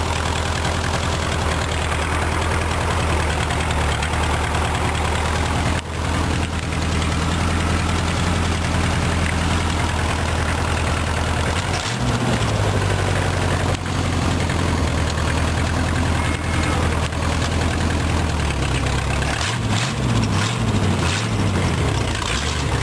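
A rat rod engine runs and idles steadily with a low, heavy, continuous rumble and slight knocking, close up and alone, with small shifts in pitch toward the end.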